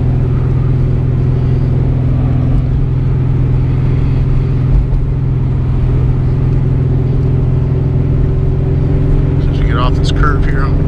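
A car engine holds steady at around 2500 RPM, a loud, constant low drone with a hum that never rises or falls, while someone talks over it toward the end.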